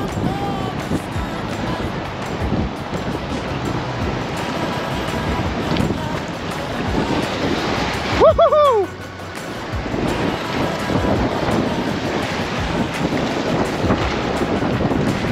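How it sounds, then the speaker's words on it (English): Rushing river rapids met while kayaking in Glenwood Springs, Colorado, a broad continuous wash of water and wind buffeting under people talking, with a brief louder splash in the middle. "Here comes some rapids!"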